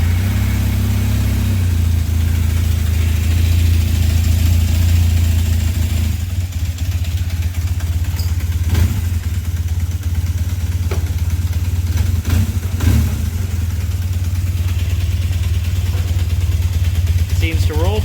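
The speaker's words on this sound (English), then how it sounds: "So I'm going to fire up the bike really quick and we'll see how it rolls." A 1978 Kawasaki KZ400B motorcycle fitted with a new chain and sprockets, its engine already running and settling into a loud, steady low idle close by, with a few faint clicks over the rumble.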